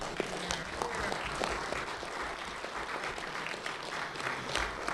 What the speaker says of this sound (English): I do want to say give a nice round of applause to Lester Bedford.